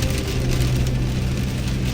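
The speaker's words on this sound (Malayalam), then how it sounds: "കല്ല് പെയ്യണ പോലെ മഴ പെയ്യണ" Heavy rain pounds a vehicle during a road trip from California to Oregon, making a dense, unbroken hiss under the low hum of the car.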